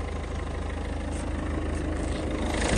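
A 2020 Ford Focus Combi's 1.5 TDCi 70 kW diesel engine idles steadily, a continuous low rumble with a regular pulsing throb, close and moderately loud with no voices.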